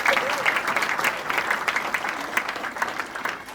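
A church congregation applauds together in a sustained burst of dense clapping that holds steady and then eases slightly toward the end.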